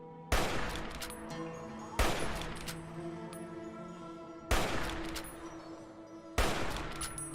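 Gunfire aimed at a Super Mutant Gargantuan in Fallout 3 comes as four loud, separate blasts spaced a couple of seconds apart, each trailing into a long rumbling decay.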